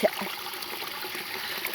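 Water trickles and flows steadily, a close, continuous broadband stream with no break and no one speaking.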